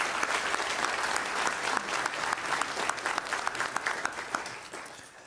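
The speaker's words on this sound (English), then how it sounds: "Can we give them another big round of applause?" Sustained applause from an audience honoring community leadership award recipients at a city's state-of-the-city event, dense steady clapping throughout with occasional sharper claps, fading slightly toward the end.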